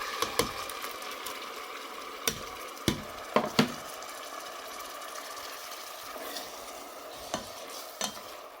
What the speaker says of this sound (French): Maintenant que le concentré de tomate est en train de frire, je vais venir rajouter les légumes que je viens de hacher